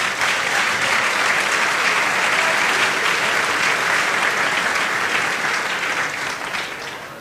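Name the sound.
audience applause at business plan presentation finals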